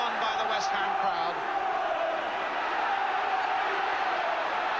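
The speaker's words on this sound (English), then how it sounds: "Roared on by the West Ham crowd." West Ham football crowd at a 1983 Division One match against Manchester United, a steady distant roar filling the stadium throughout, with faint commentary over it.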